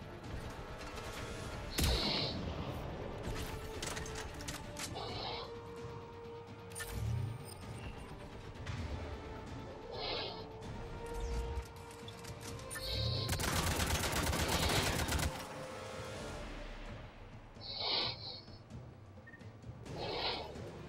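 Bursts of gunfire from an enemy mounted gun in Mass Effect 3, repeated cracks and rattling shots at moderate distance over constant battlefield rumble, with a louder sustained volley partway through.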